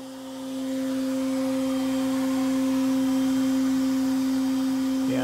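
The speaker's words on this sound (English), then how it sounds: "I think what we'll hear mostly is just that paper spinning around." Paper taped to the spindle of a 6040 CNC router spins steadily, giving a constant whirring hum with two sustained tones, loud and alone throughout.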